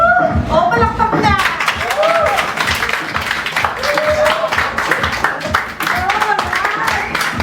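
Applause and clapping from a crowd while filming the Filipino show Follow That Star, scattered claps with some laughter under excited talk and cheering throughout.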